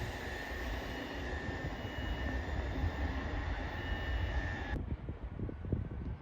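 An LNER Azuma train arriving at Peterborough on the East Coast Main Line, running from Newcastle to London King's Cross, a steady loud rumbling roar with a high whine that drops off sharply near the end.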